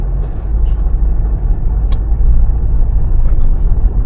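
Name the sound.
car starting to drive off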